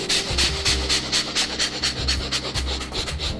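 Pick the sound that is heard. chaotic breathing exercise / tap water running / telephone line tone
chaotic breathing exercise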